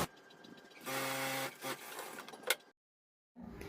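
A sewing machine stitches the cup seam of a bra in a brief burst of mechanical whirring, followed by softer handling noises and then a pause.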